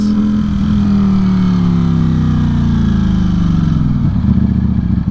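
A Ducati Streetfighter V4 motorcycle engine runs loud and close, a deep steady growl with a slightly falling pitch that rises into a rougher rev near the end.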